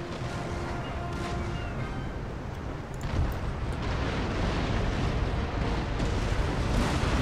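Ship cannons fire in the naval battle game Empire: Total War against the Russian navy, a dense, rumbling roll of booms and crashes that stays loud and continuous throughout.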